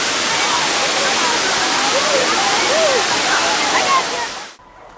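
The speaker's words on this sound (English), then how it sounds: "so we made it to the first waterfall" Muddy Creek Falls, a waterfall reached on a rainy camping hike, pours as a loud, steady broadband rush of falling water that fills the clip, with a faint voice barely audible beneath it, then cuts off abruptly near the end.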